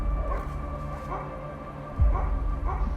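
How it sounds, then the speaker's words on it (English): Dogs bark at night outside a rural home near an embankment by the road, a few sharp barks and yips cutting through a low steady background hum. "Dogs started barking."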